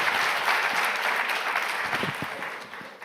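Applause from an audience at the evening final of the Prix Jules Favre 2024, welcoming the five jury members: a dense, steady wash of many hands clapping that holds for about three seconds and eases slightly toward the end.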